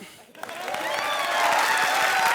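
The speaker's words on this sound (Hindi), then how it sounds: "चलो जोर से ताली बजाओ।" A comedy show studio audience breaks into applause, faint at first and swelling into steady loud clapping with some cheering.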